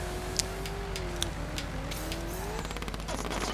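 Rapid machine-gun fire rattles out in the toy-car racing game Toybox Turbos, a quick run of sharp bursts near the end, cutting over a constant engine drone and game sounds.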